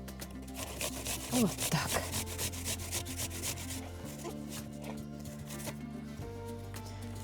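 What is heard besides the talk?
grating apples by hand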